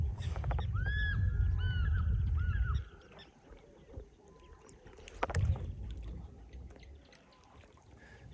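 A mokoro dugout canoe gliding on the Okavango River at sunrise, with a low splashing rumble of water at the start, birds honking and calling nearby, then quieter lapping with occasional soft knocks and splashes.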